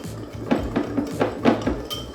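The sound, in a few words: spoon mixing ground spices together in a bowl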